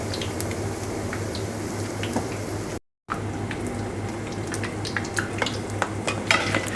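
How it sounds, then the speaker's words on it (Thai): Steady crackling sizzle of Thai ingredients for yum tamlueng deep frying in hot oil, with occasional pops and scrapes, close and continuous with a brief cut in the middle. "ทอดให้มันสีเหลือง ๆ ครับ"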